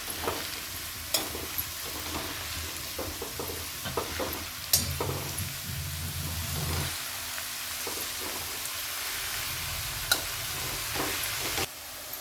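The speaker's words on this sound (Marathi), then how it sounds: "आता आपण हिरव्या वाटणामध्ये ना छानपैकी मेथी अशी चांगली परतून घेतली" Fenugreek leaves sauté in a green chili paste, giving a continuous close sizzle and crackle broken by repeated stirring scrapes and knocks against the pan, with no talking.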